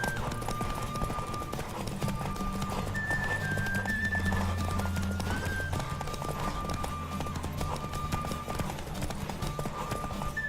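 Hooves of a galloping horse in The Witcher 3: Wild Hunt pound in a steady, fast clip-clop rhythm, close and continuous, layered over a dense game soundscape with sustained tones beneath.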